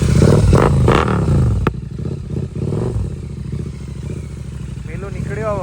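A motorcycle engine runs loudly up close with a rough, clattering idle and some revving, as a voice speaks over it.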